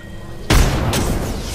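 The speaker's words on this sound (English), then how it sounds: "Grenade out!" An Apex Legends grenade goes off with a sudden loud, close boom, followed by a rumbling tail of debris and a second smaller burst.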